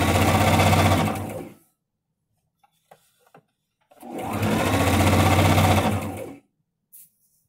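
A sewing machine stitches the hems of a baby sheet in two loud, steady runs of rapid needle clatter, with a quiet gap of small handling clicks between them.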